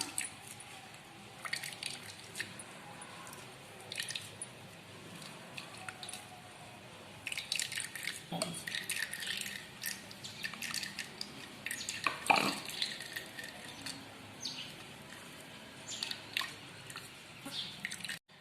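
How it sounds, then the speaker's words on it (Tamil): Ground coconut is pressed through a metal strainer with a spoon in a kitchen, giving faint, intermittent squishing, scraping and clinking along with soft drips of coconut milk, with clearer bursts midway. "நம்ம இந்த மாதிரி ஒரு ஸ்பூன் வச்சுங்க இந்த மாதிரி நல்லா அழுத்தி விட்டுக்கலாம்."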